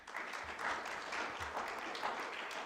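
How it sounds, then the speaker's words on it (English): A synagogue congregation applauds at the close of a Shabbat service, with steady, moderately loud clapping sustained throughout and no talk. "I still have never gotten used to people clapping in shul"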